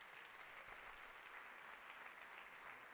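Sustained audience applause at a social action award ceremony, dense and steady throughout as a crowd claps for prize winners, with no voices standing out.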